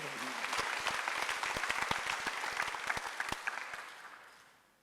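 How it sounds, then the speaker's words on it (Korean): Congregation applauding during a Sunday church worship service: dense, sustained clapping from a crowd that holds steady, then thins and fades out toward the end. "박수."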